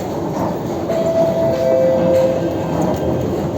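Steady rumble of a local EMU electric train at a platform in Chennai Central Railway Station, with a faint high whine drifting in and out and no voices.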